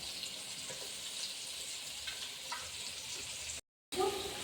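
Pieces of rui fish fry in hot oil in a pan, giving a steady, fairly quiet sizzle that runs on without pause, briefly cut off near the end.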